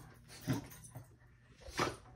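A dog gives two brief, soft whimpering yelps about a second apart, close by in a quiet room.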